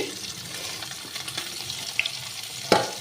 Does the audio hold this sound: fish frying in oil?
yes